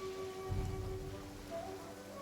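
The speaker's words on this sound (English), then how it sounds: "Why are you just standing in the rain?" Steady rainfall in the Genshin Impact video game, a constant soft hiss of falling rain with faint game tones underneath, heard alone without talk.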